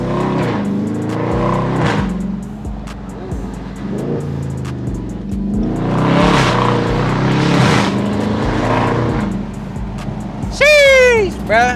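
A 2022 Dodge Charger Scat Pack Widebody with its mid muffler removed rumbles and revs loudly up close, exhaust note rising and falling through gear changes, with a brief tire squeal near the end and voices talking over it.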